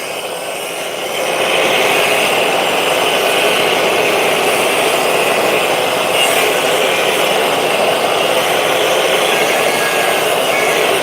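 An angle grinder with a cutting disc slices through a steering box selector part, a loud, sustained high whine that kicks in after a brief start and holds steady to the end.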